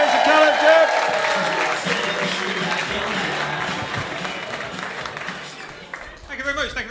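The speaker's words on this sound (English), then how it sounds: "Please start clapping up some cheers for Caleb James" Audience at a comedy contest night claps and cheers for the winner in a dense, steady wash, with a voice talking over it near the start and again as it fades out at the end.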